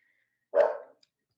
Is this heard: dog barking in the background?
yes